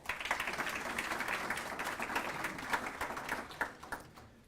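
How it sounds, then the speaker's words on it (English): Audience members at a youth conference give a round of applause, a steady, moderately distant patter of many hands that thins out toward the end. "Can we give them a round of applause?"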